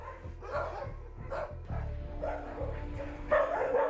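A dog that dislikes wearing a leash gives a string of short, moderately loud barks in uneven bursts over a low background rumble, with no talk.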